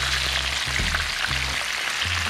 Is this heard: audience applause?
no